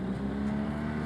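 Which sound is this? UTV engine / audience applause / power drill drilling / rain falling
UTV engine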